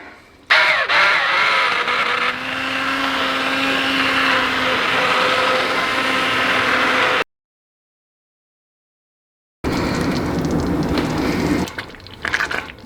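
Blender whirring loud and steady as it blitzes barbecue sauce ingredients with a chunk of roasted garlic, running about seven seconds, cutting off, then starting again briefly.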